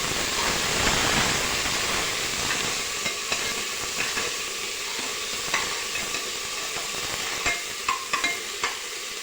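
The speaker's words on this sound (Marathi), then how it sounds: "बारीक चिरलेला टोमॅटोही घालून घेऊ। हे सर्व परतून घेऊ।" Chopped tomatoes and green chillies sautéing in a pan for masale bhat, a steady close sizzle with scattered light clicks of a spoon stirring, no talk.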